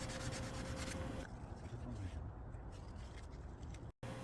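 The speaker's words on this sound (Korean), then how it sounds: "여기 림 쪽은 타이어를 탈착하는 과정에서 찍힌 곳이라 사포로에서 매끈하게 갈아줍니다" Sandpaper rubs by hand over a scuffed alloy car wheel rim to smooth chipped spots before repainting, a steady close scraping rasp that continues throughout with brief pauses.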